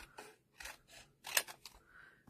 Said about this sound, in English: Just trim my paper down just a little bit here